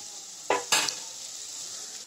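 Capsicum cooks in a pan with a soft, steady sizzle, broken by two quick scrapes as a spoon stirs the pieces near the start.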